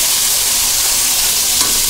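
Sliced onion frying in hot oil with dried chepa shutki fish, a continuous close, loud sizzle with faint stirring.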